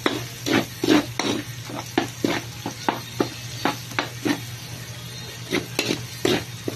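Garlic and onion sauté in a pan, a steady sizzle with repeated scraping stirs at an irregular rhythm, close and fairly loud, while a low steady hum runs underneath; no one speaks.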